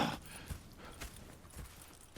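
Horse hooves clop in a steady rhythm of soft, muffled thuds on the ground in Red Dead Redemption 2, a few evenly spaced footfalls at moderate distance, with no talking.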